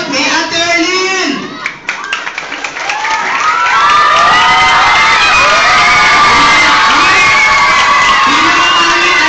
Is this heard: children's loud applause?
yes